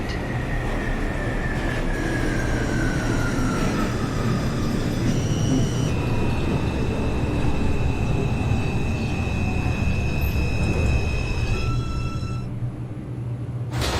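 NYC Subway R142 train in the OpenBVE simulator running on a 2 local toward Flatbush Avenue: a steady rumbling roll with a falling motor whine and sustained electrical tones, close and continuous.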